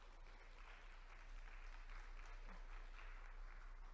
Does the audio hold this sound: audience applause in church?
yes